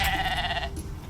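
A video game sheep gives a single short bleat that is loud and close, then cuts off quickly.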